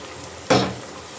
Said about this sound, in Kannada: ಇದನ್ನು ಇವಾಗ ನೀಟಾಗಿ ಎಣ್ಣೆಯಲ್ಲೇ ಫ್ರೈ ಮಾಡೋಣ.